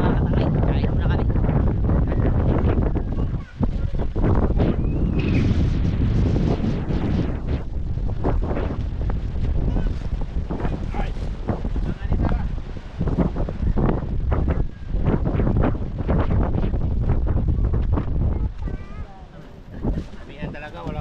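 Strong monsoon wind buffets a boat at sea, a loud continuous rush and roar over the microphone with the sound of the vessel and water beneath, as people talk throughout.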